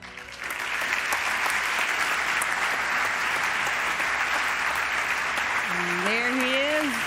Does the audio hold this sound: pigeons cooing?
no